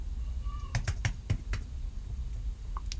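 Computer keyboard keys tapped out in short irregular bursts, several distinct clicks close together then a pause and a few more, close and fairly crisp over a quiet room.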